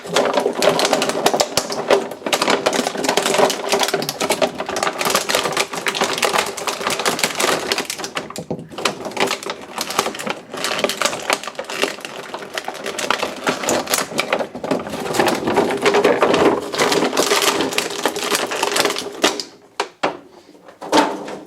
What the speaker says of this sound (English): I want to see if it does the clicking noise.